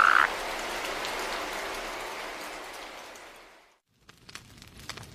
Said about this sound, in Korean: 두꺼비 한 마리가 부엌으로 들어왔어요.